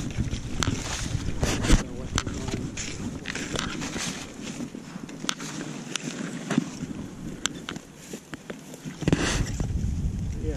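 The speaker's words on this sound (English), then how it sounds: "hard for me to cast with this wind right now" Wind blowing outdoors during late November trout fishing, gusty rumbling buffets on the microphone with scattered knocks and rustles, and someone talking over it.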